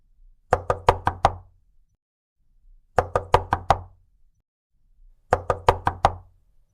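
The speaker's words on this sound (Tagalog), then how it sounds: "naririnig niya pa rin ang mahinang katok sa bintana ng apartment niya" Knocking on an apartment window as a horror narration sound effect: three clusters of five quick, sharp knocks, evenly spaced apart, crisp and fairly close, with silence in between.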